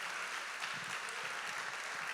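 A church congregation applauds during a sermon with soft, steady clapping that sounds distant and faint and carries on without a break.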